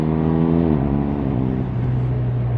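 A BMW R1250R boxer-twin motorcycle engine pulling hard at full throttle, rising in pitch with a shift partway through, loud and close under wind rush.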